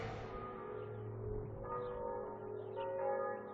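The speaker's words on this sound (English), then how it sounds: "every time he won a Grand Prix, the church bells in Rossi's hometown rang out in celebration, 105 times from 1996 to 2010." Church bells ring with a sustained, resonant tone that fades and is struck again, soft and distant with no voices.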